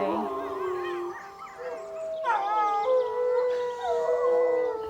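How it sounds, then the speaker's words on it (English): European wolves howl in a chorus, several long rising and falling wails overlapping and trading off, clear and fairly close, with no talk over them. "Now, the Europeans did give it a good try with their howls"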